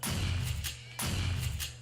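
Two heavy gunshots from shooting a pig in the survival game 7 Days to Die, each a loud low thump with a short rumbling tail, about one second apart, close and with no talk over them.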